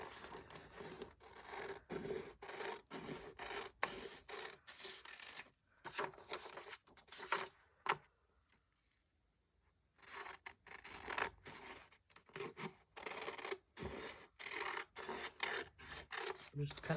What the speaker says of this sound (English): Just cutting the edges off.